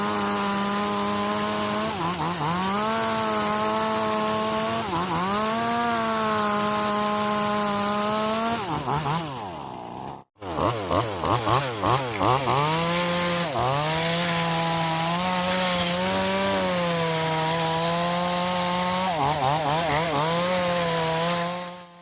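A chainsaw with a new bar and chain roars loudly and continuously as it cuts through wood, its pitch dipping and rising under load, with a brief cutoff midway before resuming.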